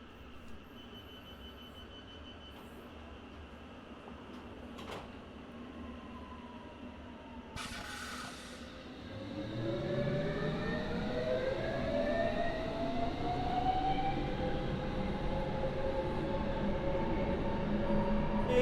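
Metropolitan Line train in Train Simulator 2020 running alone, a low steady rumble that swells louder partway through as traction motors whine upward in pitch, with a brief hiss and clunk beforehand.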